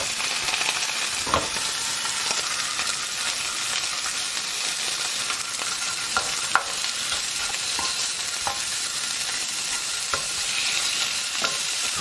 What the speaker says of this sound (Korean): 이제 다음으로 양념된 고기를 구울 건데요